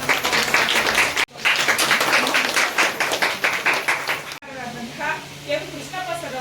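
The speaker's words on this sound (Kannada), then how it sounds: "ಅವರಿಗೆ ಚಪ್ಪಾಳೆಯ ಮೂಲಕ ಸ್ವಾಗತ." Audience applause welcoming a guest at a certificate distribution event in an office, dense and steady clapping with a brief break, then fading into quieter scattered claps, with voices audible underneath.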